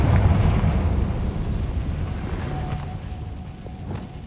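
A Confringo blasting spell exploding in the video game Hogwarts Legacy, a heavy booming burst at the start that decays into a long rumbling tail, loud and close.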